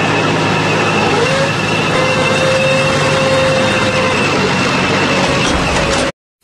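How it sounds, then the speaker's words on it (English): A military tank rumbles loudly and steadily, its heavy engine and tracks forming a dense, continuous roar with a faint whine, running alone before cutting off abruptly near the end. "Tank."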